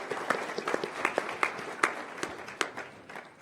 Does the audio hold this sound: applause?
yes